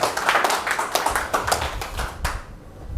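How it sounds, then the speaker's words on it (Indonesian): A church congregation claps and cheers for God during a sermon, a brisk, dense burst of applause from many hands that stays loud for a couple of seconds, then cuts off abruptly. "Berikan sorak-sorai buat Tuhan."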